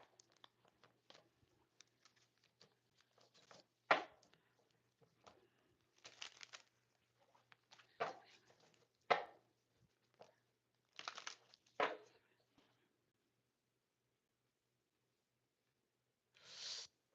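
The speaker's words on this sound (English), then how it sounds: "I'm just going to pray over the cards as I shuffle so we can just save a little bit of time." Tarot cards being shuffled in quiet, intermittent bursts of soft papery riffling and crinkling, close by with silent gaps between.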